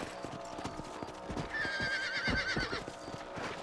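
A horse in the Red Dead Redemption video game trots on a ranch with rhythmic clip-clopping hooves and gives a clear neigh midway through, with the hoofbeats steady throughout and fairly quiet.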